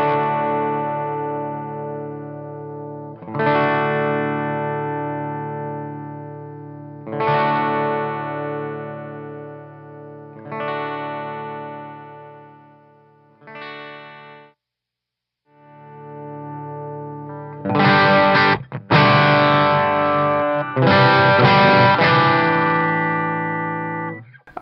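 A cheap electric guitar with budget parts plays through a Friedman amp, distorted chords ringing out in repeated sustained hits, a short pause, then a denser, louder burst of strummed chords.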